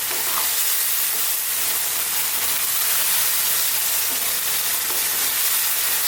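Beef stir-frying over high heat in oyster sauce, a loud steady sizzle and hiss with constant stirring throughout.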